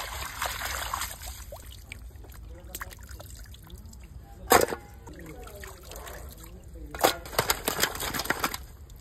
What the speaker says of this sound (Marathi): पण एक पाण्याने परत धुवून घेऊ।